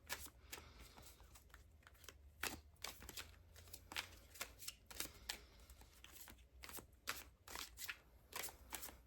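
Tarot cards being shuffled close up, a quiet run of crisp riffling and slapping bursts repeating irregularly with no talking.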